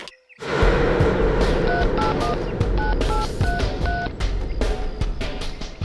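A phone is dialled in a busy setting: a run of short, clear touch-tone beeps in an uneven rhythm, sounding over a steady background din of traffic and street noise.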